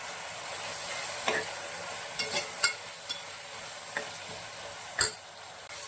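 Green peas and tomato fry softly in a pan, a quiet continuous sizzle broken by several sharp scrapes and taps as a spoon stirs them, with no voices.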